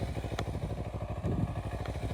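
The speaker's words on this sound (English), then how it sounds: "Because like when your revs are up like this, you start letting out your clutch" A Honda CB125 motorcycle engine revs close by, its fast, even pulsing firing beat running steadily, with a slight surge in the middle.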